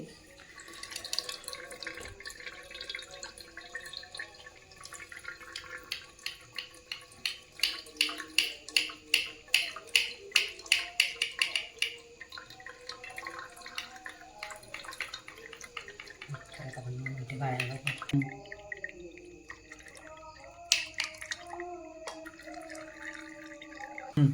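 Homemade cow ghee being strained into a container, with quiet liquid trickling and drips, bursts of rapid dripping and occasional clinks of utensils, all at close range.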